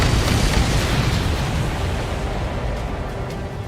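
Missile explosion in Ace Combat 7: a broad, sustained rumbling blast that fills the mix and slowly fades, heard on its own without talk.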